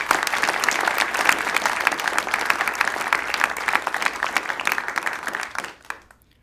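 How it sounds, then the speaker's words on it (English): A NASA headquarters audience gives the Hubble team a loud, dense round of clapping that holds steady and then stops abruptly near the end. "I think that deserves a round of applause to the Hubble team"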